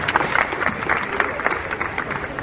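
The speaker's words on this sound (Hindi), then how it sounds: "ताली बजाइए।" An audience at a public ward meeting in Mumbai gives a dense, continuous round of applause, many hands clapping at once with fairly loud, steady energy throughout.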